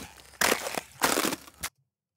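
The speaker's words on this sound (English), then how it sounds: "Just need a good crunch." A crunch effect from a sound library, like treading on icy grass scattered with leaves: two loud, crisp crunching bursts close together, then silence.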